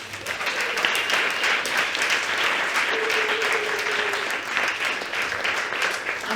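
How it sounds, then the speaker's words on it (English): Sustained applause from a morning lecture audience for volunteers, a steady, even roar of many hands clapping at moderate level, with a brief tonal sound partway through. "And can we please have a round of applause for our volunteers?"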